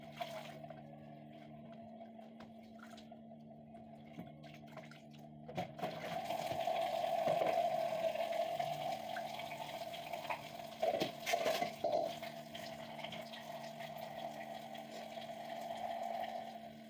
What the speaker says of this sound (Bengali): এখন শাকটাও আমি ধুয়ে পরিষ্কার করে নেব, কারণ এইগুলা শাকে ময়লা থাকে, ভালোভাবে ধুতে হয়